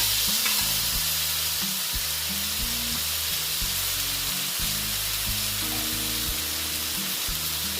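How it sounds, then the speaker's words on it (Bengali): Spice paste sizzles loudly and continuously in a hot pan for a soybean and potato curry, with an even frying hiss and low rumble and no voices. "এখন আমি মশলার যে পেস্টটা বানিয়েছিলাম এটা আমি দিয়ে দিলাম"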